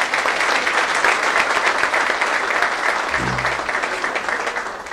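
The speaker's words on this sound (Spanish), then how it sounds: "Un aplauso para todos ellos." A hall of fame ceremony audience in a sports pavilion applauds honored inductees; loud, dense, continuous clapping from a large crowd, with a brief low tone or voice briefly underneath midway.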